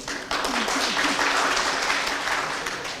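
Applause from a symposium audience on a waste-for-cash eco project, a dense, steady wash of clapping that starts abruptly and stays loud throughout, with faint voices underneath.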